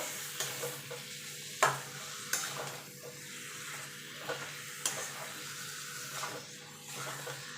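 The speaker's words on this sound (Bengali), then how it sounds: "চিকেনের সঙ্গে ভালো করে মশলাটা মাখিয়ে নেব" Chicken pieces are stirred with spices in a pan over low to medium heat, a soft steady sizzle with scraping stirs and occasional sharper knocks from the utensil, faint and close.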